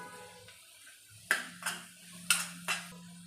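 A spoon mixing salt into capsicum chutney in a pan, four distinct metallic taps and scrapes against the pan over a low steady hum.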